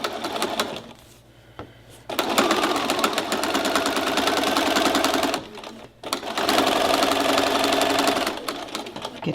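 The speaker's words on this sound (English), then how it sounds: "Turn this potholder around, and I continue sewing down." A sewing machine stitches down a fabric potholder in two long, steady runs of rapid mechanical chatter, broken by a short pause while the piece is turned, close and clear with no speech.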